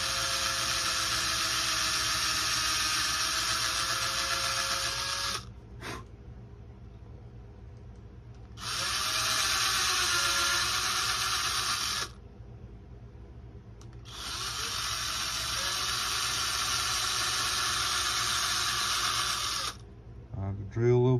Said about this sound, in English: I'll drill a little bit, pull it out.